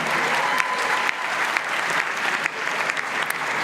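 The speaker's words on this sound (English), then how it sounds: "There's a round of applause right there." Steady applause from an audience at a Murdoch University graduation ceremony in Dubai, a dense continuous patter of many hands clapping at even loudness throughout, with no talk over it.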